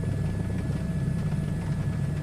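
Helicopter in a VR flight simulator game, inbound for a touch-and-go at Lorient Airport: a steady, loud rotor and engine drone with a low rumbling throb, continuous throughout with no talk.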